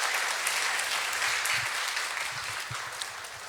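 A church congregation applauds in a sustained wash of clapping at a Friday evangelism service, steady and full before gradually tapering off.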